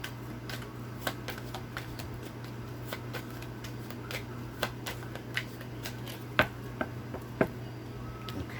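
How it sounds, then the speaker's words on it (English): Cards being shuffled up close, a run of soft riffling ticks and snaps with a few sharper clicks over a steady low hum. "So card flew out as I was shuffling."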